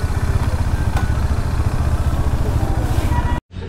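Motorcycle engines idle loudly nearby as the bikes are parked outside a roadside restaurant, a steady throbbing putter that cuts off abruptly near the end.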